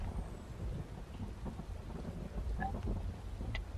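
Thunder and steady rain from a dynamic weather system in Unreal Engine, a continuous low rumble under a dense hiss of rainfall, with no voices.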